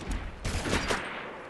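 Gunfire in SOCOM 4 multiplayer on PlayStation comes as a short, dense burst of rapid shots, loud and close, then decays into a lingering rumble.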